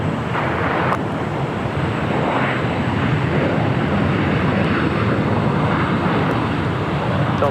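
An Airbus airliner departs a runway at LAX with a loud, steady jet roar that holds for the whole span, broad and sustained, with no clear speech over it.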